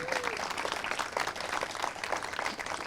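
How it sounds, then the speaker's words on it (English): An audience at a groundbreaking ceremony for a health professions building applauds, a fairly quiet, steady patter of many hands clapping, heard from some distance and continuing evenly throughout. "I think we should give them a round of applause again."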